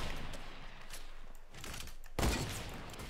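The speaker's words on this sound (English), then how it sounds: "Can't believe you actually sniped me twice there." Fortnite sniper rifle shots, a few sharp cracks among the in-game noise, with the loudest, heaviest report arriving near the end.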